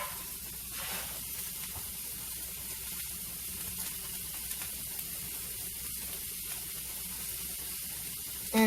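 Onions sizzle in a frying pan, a steady, fairly quiet hiss that stays even throughout, with a brief louder bump at the very end.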